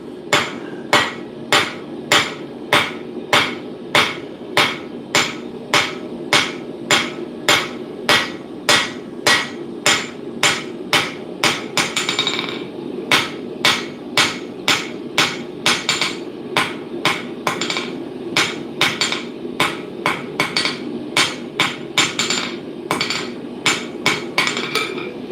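A smith hand-forges small metal stock with a hammer, striking in a steady, even rhythm of dozens of sharp ringing blows, with barely a pause midway. The hits are loud and close, with no talking.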